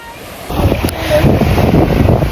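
Ocean surf rolling onto a beach in Jamaica, a steady broadband wash that swells louder partway through, with wind buffeting the microphone and no talk over it.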